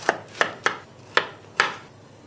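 A knife chops through cauliflower on a board, five sharp, evenly spaced cuts ringing out close by with no voices.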